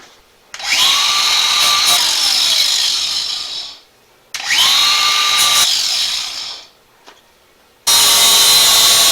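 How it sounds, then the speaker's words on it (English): A flap disc grinding the cut edge of a Ford F-150 hood in three loud, close bursts, each a whining spin-up into a steady rasp, separated by short pauses. "I'm just going to clean up that last little bit with the flap disc."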